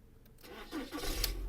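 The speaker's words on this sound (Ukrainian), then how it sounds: "Давайте запустимо двигун." A Volkswagen car engine with automatic transmission and 179,000 km cranks briefly and catches, then settles into a steady running rumble; close by, with no talking.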